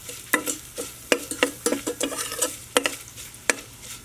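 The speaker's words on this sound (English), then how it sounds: "Half teaspoon of turmeric powder. Fry for 1 or 2 minutes." Turmeric powder frying in a pan for a lemon cilantro lentil soup, with a steady low sizzle under loud, sharp clinks and scrapes of a spoon stirring at an irregular pace, close by and with no talking.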